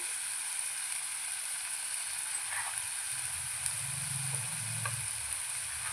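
Curry leaves sizzle in hot oil, a constant bright frying hiss at moderate volume, with a few soft stirring knocks toward the end.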